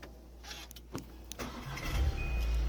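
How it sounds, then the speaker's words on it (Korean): A Volkswagen Tiguan engine cranks briefly and catches, settling into a steady low idle; a few clicks and rustles come first inside the cabin. "이어서 시동부터 걸어보도록 하겠습니다"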